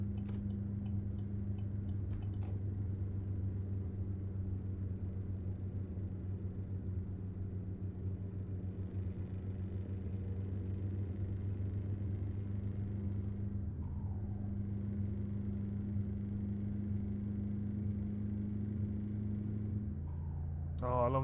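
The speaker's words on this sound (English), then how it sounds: "Oh, I love the Scania sound, man." A Scania truck engine in a truck driving video game drones steadily with a deep, even rumble throughout, a faint ticking near the start and a slight shift in tone toward the end.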